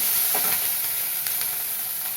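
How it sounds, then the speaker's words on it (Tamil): Green chillies sautéing in hot oil with a little salt for cucumber sambar, a steady close sizzle and hiss with faint stirring scrapes throughout, no voices. "இப்போ பச்சை மிளகாய் போட்டு வதக்கலாம்."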